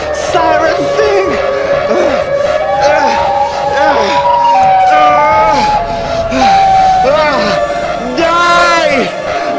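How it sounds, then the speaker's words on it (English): A wailing electronic siren rises and falls repeatedly while an excited voice talks loudly over it. "I have to shoot at that siren thing!"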